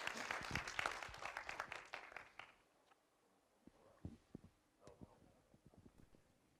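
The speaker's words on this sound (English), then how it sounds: "A big round of applause to Andrzej." An audience applauds a speaker being welcomed on stage at a C++ programming talk, with loud, brisk clapping that fades out after about two seconds and gives way to scattered knocks and handling noises in a quiet room.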